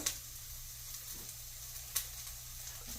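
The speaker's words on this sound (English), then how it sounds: "I'm going to add our Scotch bonnet peppers." Diced Scotch bonnet peppers hitting a hot pan, a steady quiet sizzle with a couple of sharp crackles, no voices.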